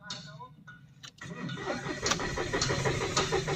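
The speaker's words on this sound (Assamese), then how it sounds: "ফুল ক্ৰেঙ্কিং হৈ আছে বাট ইঞ্জিন ষ্টাৰ্ট হোৱা নাই" A Mahindra Bolero BS6 engine cranks repeatedly without catching, the starter motor grinding in a steady rhythmic churn close by after a brief pause, with a voice talking over it.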